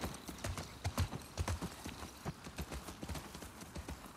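Steady clip-clop of horse hooves at a trotting rhythm while riding through a forest in The Last of Us Part 2, fairly close and moderately loud, with little else around them.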